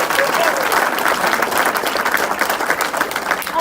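A town hall crowd in Chehalis, Washington breaks into dense, sustained applause. Many hands clap steadily and loudly throughout, with no break.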